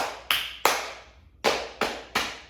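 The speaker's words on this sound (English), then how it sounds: "does it sound the same if you clap your hands on your legs?" Hands clapping on legs, five sharp slaps in an uneven rhythm, close and fairly loud, each with a short decaying ring and no talk.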